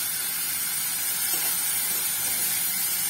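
Tomatoes hit fried masala in a hot kadai, giving a loud, even, unbroken sizzling hiss throughout with no talking.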